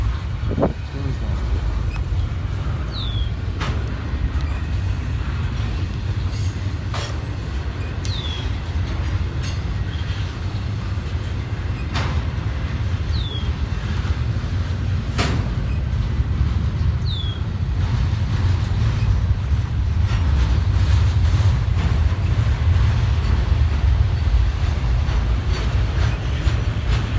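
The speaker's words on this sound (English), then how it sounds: "This train is going slow. It's really slow." A slow-moving train rolls past at Lake Avenue in Blasdell, New York, a loud steady low rumble of railcars with occasional metallic clanks and faint wheel squeals throughout, close by and unbroken.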